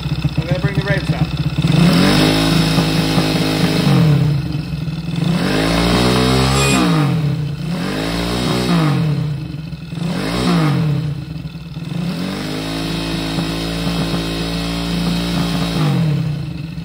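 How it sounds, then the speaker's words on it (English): Zongshen 190/212 small single-cylinder engine fitted with an ignition timing corrector, revving up repeatedly in strong rising and falling sweeps, loud and close, with a steady idle clatter between the revs. "I'm going to bring the revs up."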